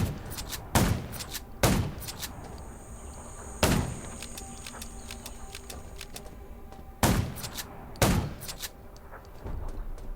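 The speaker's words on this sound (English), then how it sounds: "Gunshots." Gunfire in a zombie mobile video game: several loud, sharp single shots fired at irregular intervals, standing out clearly over a steady ambient hum with faint insect-like chirping.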